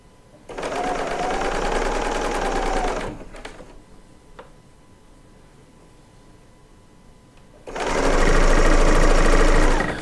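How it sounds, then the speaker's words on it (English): A 3-thread overlock serger stitches through fabric pieces for quilting in two loud, fast, steady bursts, with a quiet pause and a couple of small clicks between them. "Another great thing about piecing on a serger, especially using like a 3-thread overlock, is that it finishes the edges of the fabric so it's not going to fray."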